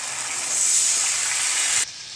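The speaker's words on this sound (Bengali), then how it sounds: "এবার আমি জল দিয়ে দেবো।" Water hits hot frying spices and tomato in a pan for fish curry, giving a loud sizzling hiss that swells, holds steady, then cuts off abruptly.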